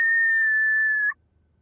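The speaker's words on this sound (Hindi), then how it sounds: "तू बस इशारे से हमें जो है समझा दियो, वो भी सीटी मार के ऐसे।" One sharp, sustained whistle of about a second, loud and close, given as a signal, then cut off into near silence.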